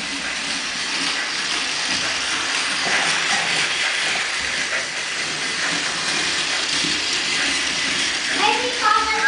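A toy steam train runs with a steady hiss and mechanical chuffing, close and continuous, and a short whistle-like tone sounds near the end.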